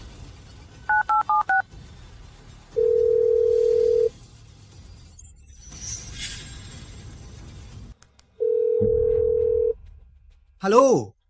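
A telephone call is placed: a quick run of keypad dialing tones, then a steady ringing tone, clicks and noise, and a second ringing tone, each loud and close, ending with a brief rising electronic chirp.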